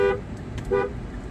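A Mahindra Thar's horn honks twice in quick succession: two short, loud, bold toots close by.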